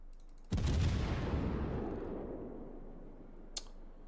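A naval gun fires with a heavy boom in World of Warships, aboard the Tier X Soviet cruiser Petropavlovsk, followed by a long decaying rumble and a small sharp pop near the end; no talk.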